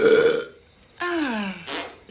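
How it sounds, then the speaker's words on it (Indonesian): Two loud, close burps in a film scene, a short one followed after a pause by a longer, drawn-out belch with a falling pitch. "Kakaknya malah ikut-ikutan sendawa."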